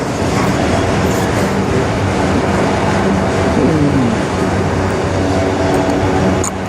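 A CN manifest freight train with autoracks rolls steadily past up close, a continuous loud rumble with wheel clatter and brief metallic squeal tones throughout.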